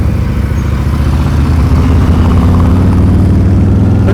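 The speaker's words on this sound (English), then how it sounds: "Listen to that throttle." A motorcycle engine rumbles loud and close during a slow-speed riding practice session, holding a steady throttled drone with no talk over it.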